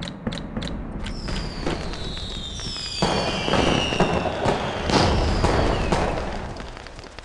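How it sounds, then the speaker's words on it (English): Fireworks in the video game Toca Life World burst in quick succession, a dense run of crackling pops and whistling streaks that swell and overlap, loud and continuous with no talking. "We actually have proper fireworks."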